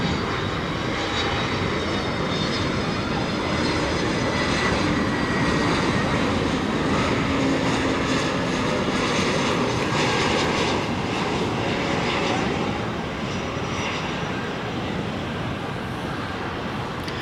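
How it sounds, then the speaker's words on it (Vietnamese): Loud, steady roar of a Starlux Airbus A321neo airliner landing on runway 25 at Tan Son Nhat airport under overcast storm skies, a broad jet-engine rush that persists without pause. "ngay sau khi chiếc Airbus A321neo của Starlux hạ cánh xuống đường băng 25"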